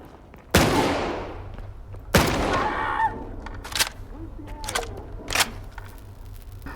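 Gunshots in the video game STALKER 2, two loud sharp blasts with ringing decay followed by quieter in-game clatter and effects over a low hum.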